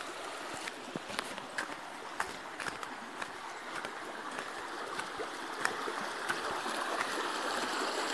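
A mountain river running steadily through a deepened stretch of its channel, a constant close rushing and gurgling of water with small splashes and clicks scattered on top, heard alone without any voices.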